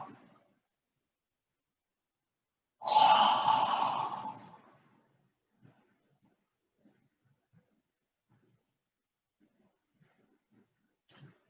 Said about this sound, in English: Breathing in and saying, "Ah."